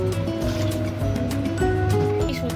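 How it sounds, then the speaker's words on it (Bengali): Water poured into a semolina and flour mixture for carrot langcha sweets, a steady close liquid sound over a constant background hum. "আমি এবার জল দিয়ে দেব"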